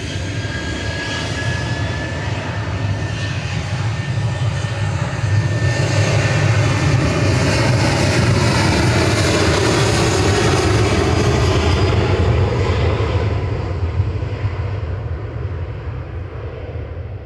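A Boeing 737 Max airliner roars steadily at Manchester Airport, its loud broadband jet rumble swelling and then easing slightly as it moves, with no talking.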